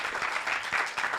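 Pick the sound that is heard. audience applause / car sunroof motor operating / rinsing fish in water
audience applause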